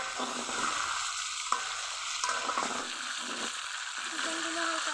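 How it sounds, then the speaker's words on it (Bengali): Chicken pieces lightly fry in hot oil in a pan for chicken kosha, a steady close sizzle with scraping stirs and utensil knocks throughout, no talking. "হালকা করে ভেজে নিব।"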